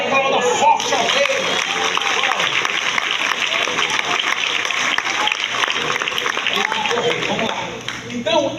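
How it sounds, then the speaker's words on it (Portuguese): Loud, sustained applause from a church congregation during a Bible study on healing and miracles, dense clapping with crowd noise running throughout and tapering slightly near the end. "Se crê, aplauda forte ao rei."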